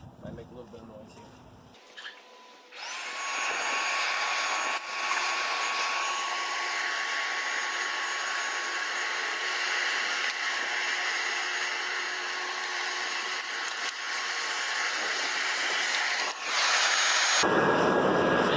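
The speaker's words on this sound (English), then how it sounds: "So I'm going to go ahead and turn the blower on. Might make a little bit of noise here." An electric blower on an anthracite coal forge switches on and runs as a steady, loud whooshing drone for most of the stretch before cutting off near the end, with no talk over it.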